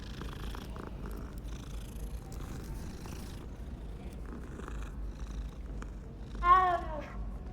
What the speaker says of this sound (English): After I pet this cat a bunch of times.